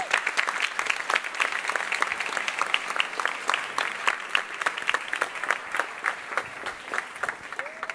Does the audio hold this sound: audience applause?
yes